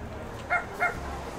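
A fluffy dog in the Blue Wednesday game gives two quick, bright barks in short succession, close and clear over a soft ambient music bed.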